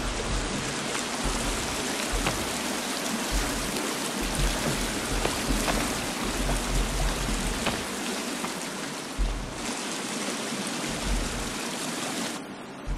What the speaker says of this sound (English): The water is very loud here.